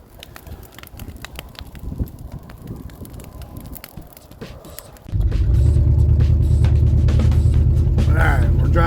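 A 79-year-old Farmall H tractor rolls along a bumpy path. Scattered knocks and rattles give way partway through to a loud, continuous, close engine rumble.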